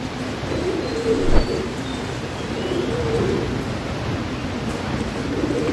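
Pigeons coo softly inside a coop, a low, hushed murmur repeating over steady background hiss, with one brief louder knock partway through and no talking.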